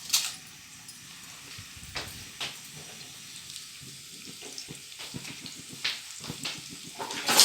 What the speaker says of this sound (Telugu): తాలింపు గింజలు వేగిపోయినాయండి